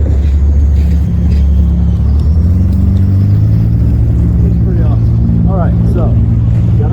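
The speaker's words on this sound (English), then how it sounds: "They still fly down the street like this guy with his little Supra." A small Toyota Supra speeds down a residential street fitted with speed humps, its engine rumbling loudly and close as it passes, while a person talks over it.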